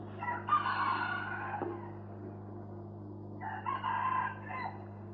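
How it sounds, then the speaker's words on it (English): Roosters crow in two long, loud calls separated by a short pause, over a steady low electrical hum. "The roosters are crowing,"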